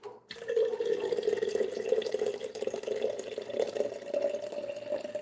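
Hot water runs steadily from a tap in a continuous close splashing stream with a strong resonant pour tone and no talking.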